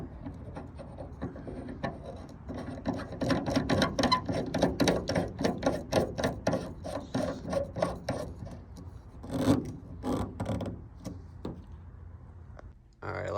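A stubby GMRS antenna for a Midland radio is threaded by hand into a mount bracket, giving a rapid run of close, dry scraping and ratcheting clicks that swell and then fade, with no talking.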